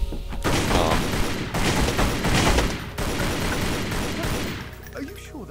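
Rapid gunfire in Tomb Raider Legend, hollow point rounds, a dense burst of shots with booming impacts lasting several seconds, loud and close, backed by game noise.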